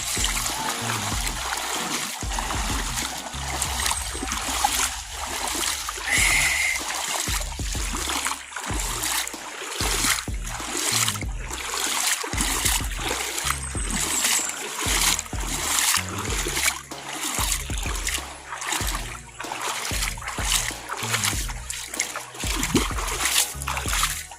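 River water splashes and churns continuously as people wade across a river, the rough rushing sound loud and close throughout with rhythmic surges from steps through the current.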